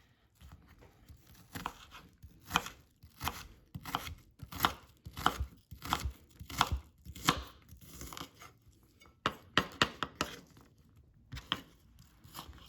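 A knife dices onion on a cutting board for guacamole, a quick series of crisp, close chopping strikes in uneven bursts with short pauses, no voices.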